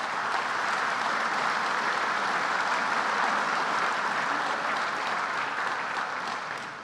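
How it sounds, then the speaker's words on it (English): Sustained, even applause from a large audience at the BTEA 2018 dinner, a dense wash of clapping that holds steady for about seven seconds and fades slightly at the end. "give them a round of applause"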